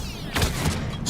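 A single sharp, booming sniper shot in the video game Mass Effect: Legendary Edition, loud and close, with a short rumbling tail amid battle noise.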